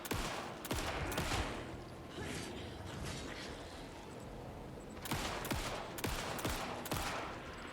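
Gunfire in the video game Alan Wake 2 comes as sharp, loud cracks: a cluster of shots early on, a quieter lull, then several more rapid bursts toward the end.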